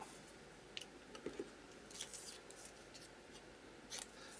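A few quiet, crisp snips of scissors cutting through paper, spaced irregularly over a soft background hiss.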